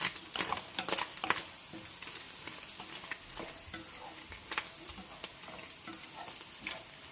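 Onion, chili, carrot and capsicum stir-fried in an IKEA pan for egg fried rice, with steady close sizzling and repeated scraping, tossing strokes of a spatula throughout, no voices.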